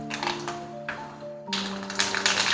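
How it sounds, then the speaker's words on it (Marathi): Mustard seeds spluttering in hot oil in a kadhai: a run of sharp little pops and taps, close and fairly loud, growing denser toward the end over a steady low hum. "मोहरी चांगली तडतडली"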